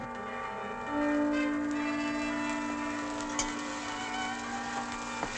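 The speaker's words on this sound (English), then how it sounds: "What's that bell, darling?" A single bell rings from a ship, a small merchant vessel heard out on the water, with one sustained tone lingering over a busy, noisy background and faint clicks.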